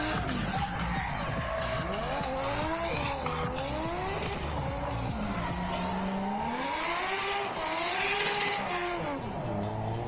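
A car spins on a racetrack with loud sustained tire squeal, the pitch sweeping up and down in wavering arcs over a steady engine roar for the full stretch, close and continuous.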